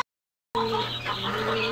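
Tiger and farm chickens kept in separate cages cluck close by after a brief silence, a short burst of overlapping fowl calls over a steady background hum.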